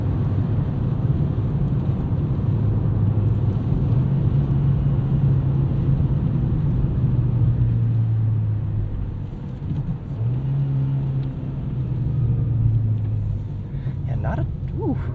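A 2024 Nissan Versa with a 5-speed manual drives along, its engine and road noise forming a steady loud rumble that dips briefly around a gear change, with faint whir underneath.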